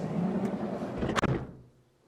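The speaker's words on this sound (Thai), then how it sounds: "ปิดประตูก่อน" The sliding door of a Toyota Hiace Commuter van is pulled shut with a close, solid thud and brief rattle, after which the interior falls noticeably quiet.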